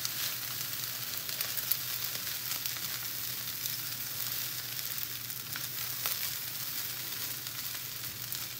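Chicken cauliflower fried rice sizzles steadily in a hot pan, a close, continuous crackling hiss with occasional stirring clicks and no talk.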